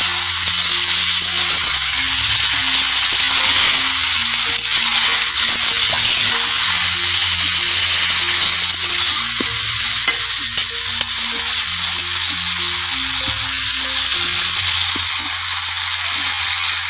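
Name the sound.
fried cauliflower and potato sizzling in pan on wood stove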